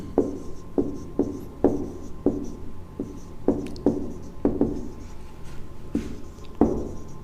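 Chalk or marker writing a definition on a board, a series of short scratchy strokes and taps in an uneven rhythm, close and clear over a faint room hum, no talking.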